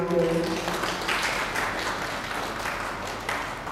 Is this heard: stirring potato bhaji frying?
no